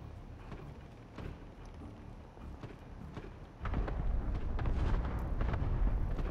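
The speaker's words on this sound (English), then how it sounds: "I was aiming for the buy box over there with a cluster strike" Cluster strike explosions in a video game, starting as scattered distant thuds over a low rumble, then swelling into a heavier, sustained roar of blasts that continues to the end.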